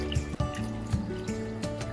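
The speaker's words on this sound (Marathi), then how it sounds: "ह्याला 1 ग्लासभर पाणी घालूया" A glass of water is poured into a pressure cooker holding corn, giving a close, bubbling gurgle and splashing trickle with a few knocks, briefly and without speech.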